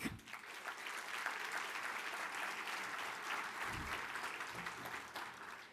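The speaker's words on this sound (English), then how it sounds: "Let's first have another round of applause for Brianna Black." Applause at the 20th annual Post Best Banquet, a broad, sustained patter of many hands filling a hall, quiet in level and steady, with a few low thumps and faint voices beneath.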